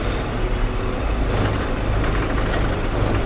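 Truck and highway traffic on a long road trip in India from Uttarakhand to Kerala, a continuous loud rumble of heavy engines and passing vehicles with broadband road roar, steady throughout with no voices.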